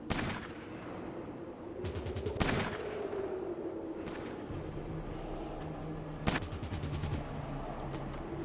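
Rapid automatic gunfire bursts in Fallout Tactics: Brotherhood of Steel, sharp repeated shot trains at about 2, 2.5 and 6.3 seconds, loud and close over a steady low battle rumble and ambient game noise.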